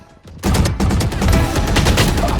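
Loud, dense bursts of automatic gunfire from the video game Valorant, erupting suddenly after a quiet start and rattling on continuously to the end.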